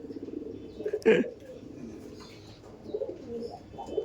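A giribaj pigeon from a male-female pair coos softly with a few low, throaty pulses, one brief louder burst near the middle, against faint background noise.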